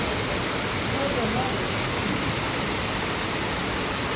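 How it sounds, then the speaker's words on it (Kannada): Heavy rain pours down in a village, a dense, steady roar of falling water that stays loud and unbroken throughout with no voices. "ಇವತ್ತು ನಮ್ಮೂರಲ್ಲಿ ಎಷ್ಟು ಜೋರು ಮಳೆ ಬರ್ತಾ ಇದೆ"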